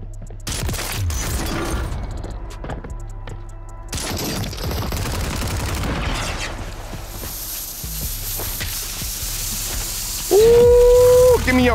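Kar98 bolt-action rifle gunfire in the Warzone video game, with sharp shots and broadband game noise through the first half, followed by a steady whistling tone near the end.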